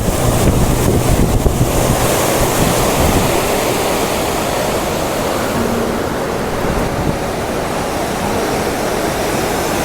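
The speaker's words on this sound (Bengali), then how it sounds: "জলের কি শব্দ খুবই তীব্র গতিতে হাওয়া বইছে তার সঙ্গে সঙ্গে বৃষ্টি আরম্ভ হয়ে গেছে প্রচণ্ড বৃষ্টি পড়ছে" Water roars out of the Maithon Dam spillway in Jharkhand, with strong wind gusting against the microphone and heavy rain, forming a loud, continuous rushing wash with no voices.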